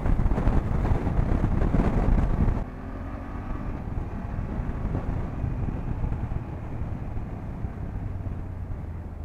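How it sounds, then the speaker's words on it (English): BMW F800GS motorcycle running at about 100 mph, heard as a loud rushing engine and wind roar that drops abruptly to a lower, steady drone partway through, with no talking. "100 miles per hour is no problem on this bike"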